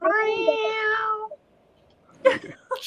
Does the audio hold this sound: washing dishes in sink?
no